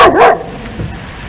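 A single sharp, loud dog bark comes close up, followed by a faint low yelp in a quiet indoor scene.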